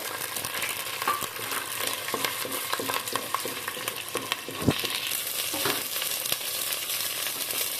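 Shallots, curry leaves and garlic fry in a pan for a fish curry, giving a steady close sizzle with scraping stirs and one sharper clatter partway through, with no voices.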